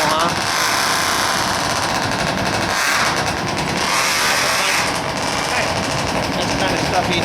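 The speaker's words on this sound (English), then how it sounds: "I see my son has got his motor started." A small motor runs nearby with a rough, steady rattling drone, loud and continuous throughout, with a voice talking over it.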